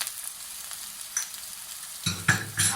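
Garlic and ginger fry with browned onions in a pan for chicken do pyaza, a soft steady sizzle giving way to a few louder stirring scrapes near the end, with no voices.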